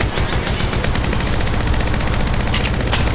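Rapid automatic gunfire in the mobile shooter game Apex Legends Mobile, a dense sustained burst of close, loud shots with a couple of sharper cracks near the end, no talking.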